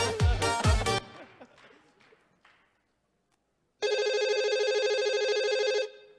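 A telephone rings during a KVN comedy festival stage performance in Ufa, a sustained electronic bell trill that starts abruptly after a brief burst of music and crowd noise, then cuts off after about two seconds.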